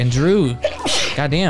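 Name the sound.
sneeze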